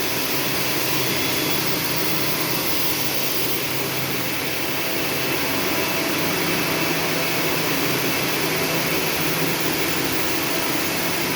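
A knitting machine in a garment factory runs with a loud, constant mechanical whir and hiss, steady and unbroken throughout, filling the room with dense broadband noise.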